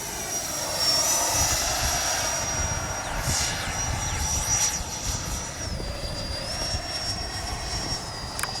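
A Freewing 90mm F-22 V2 RC jet comes in to land too fast, its electric ducted fan giving a steady loud whoosh with a thin high whine that dips in pitch as it passes near.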